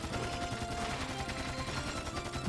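Cannons fire in the video game Dark Chronicle as a dense, continuous barrage of rapid booming shots that keeps going at a steady loud level.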